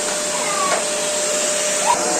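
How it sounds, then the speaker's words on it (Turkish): A household vacuum cleaner runs continuously indoors, a loud steady whooshing drone with a constant high whine, briefly marked by faint squeaky sounds. "Süpürgenin içine çek bunu."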